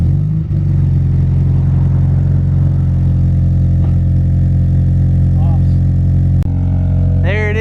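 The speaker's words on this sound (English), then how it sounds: "let's see how the FRS sounds with the Invidia N1 exhaust" A Scion FR-S fitted with a new Invidia N1 catback exhaust idles loud and close with a steady, even low drone, a small blip near the end.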